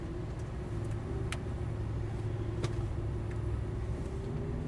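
Lamborghini Aventador LP700-4 driven on the Exotic Racing Las Vegas track, its engine a steady low droning rumble heard from inside, continuous and even throughout, with a couple of faint ticks.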